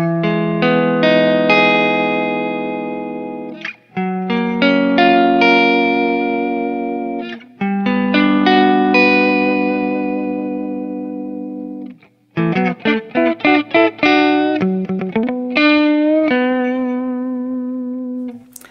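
Schecter Ultra III electric guitar played through its neck full humbucker, ringing sustained chords in several long strummed phrases, then quicker picked notes and a held final note, loud and alone with light effects.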